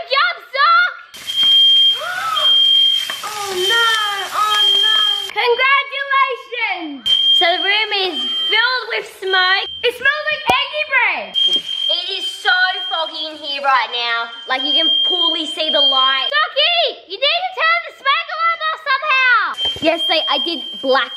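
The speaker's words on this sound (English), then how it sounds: "The fire alarm went off." Smoke alarm set off by bacon frying in a smoky kitchen, a loud steady high-pitched beeping tone running through the whole stretch beneath constant excited chatter and shouting from children and adults.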